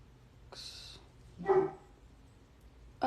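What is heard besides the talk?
dog barking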